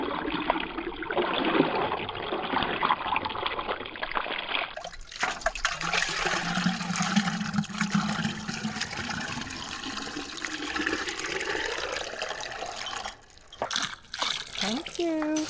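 Water flows and splashes out at a homestead in the Swedish forest, a loud continuous rushing stream with a shift in tone midway and a brief gurgling break near the end, while people talk.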